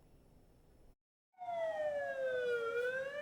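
A fire engine's wailing siren, heard from the engine as it responds to a fire call, starts up after a short silence and rises and falls steadily, loud and close over low road rumble.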